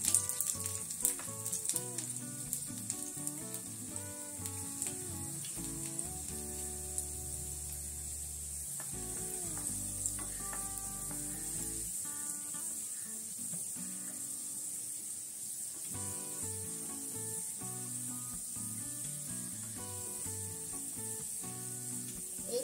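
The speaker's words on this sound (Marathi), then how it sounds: "सर्वात प्रथम आपण लसूण टाकूया" Garlic frying in a spoonful of hot oil for a kokum shrimp curry makes a steady close sizzle with occasional scraping and stirring noises across the whole stretch, and no one speaks.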